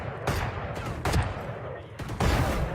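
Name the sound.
gunfire in a video game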